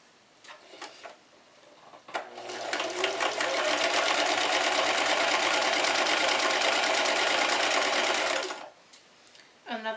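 A sewing machine stitches fabric face mask pieces in one steady, loud, close run of about six seconds, with quieter handling noise before and after.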